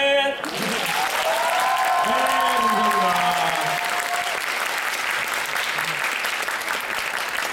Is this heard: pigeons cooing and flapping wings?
no